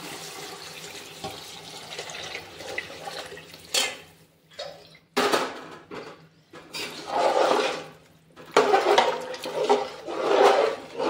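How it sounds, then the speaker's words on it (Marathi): Water pours in bursts into a pan of sautéed potato and eggplant mixed vegetables, making loud splashing gushes with short pauses between pours, close by, with no voices. "त्याच्यात आपण पाणी घालून घेऊ।"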